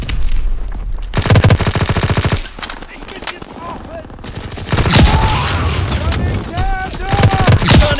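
Bursts of rapid automatic gunfire from a first-person shooter video game, loud and close, come in several volleys separated by brief pauses, with voices talking over the action.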